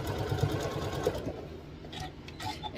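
A sewing machine stitching two quilt block units together runs steadily and close up, its rapid mechanical whirr continuous before easing and stopping, leaving quieter handling noises.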